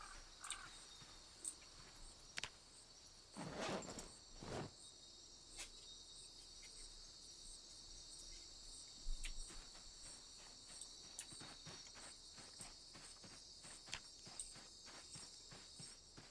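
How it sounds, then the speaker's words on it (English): Steady insect chirring of grasshoppers fills a sunny forest in the zombie survival game Project Zomboid, a dense high buzzing bed throughout, broken by a few soft footstep-like thumps and brief rustles. "Grasshoppers singing, the sunshine and everything."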